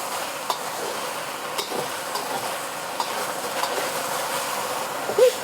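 Beef searing in a hot oiled pan for ginger onion stir fry: steady, even sizzling and crackling held at a moderate level, with occasional small pops and no talking.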